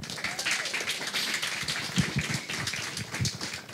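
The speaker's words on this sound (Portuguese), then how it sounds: "Pessoal, aplausos para o Gustavo" Audience at a live talk on marketing and entrepreneurship applauding, a steady wash of many hands clapping at moderate level with a few sharper claps standing out.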